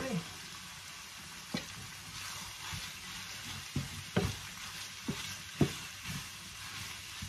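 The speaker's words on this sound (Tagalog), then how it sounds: "So fry lang natin kaunti." Chicken frying in a little oil, a faint steady sizzle broken by several sharp clinks and scrapes of stirring.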